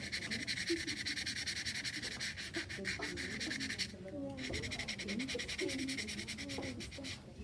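Sandpaper rubs Sharpie marker off a saltwater-etched metal piece in fast, steady back-and-forth strokes, a close scratchy rasp that continues nearly without pause while a person talks faintly underneath.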